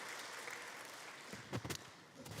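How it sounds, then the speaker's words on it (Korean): Church choir receiving applause from the congregation at a Wednesday worship service, a soft wash of hand clapping that swells briefly in the middle and at the end, heard from a distance in a reverberant sanctuary. "다시 한번 은혜 끼쳐 우리 성가대 귀한 박수 부탁드립니다"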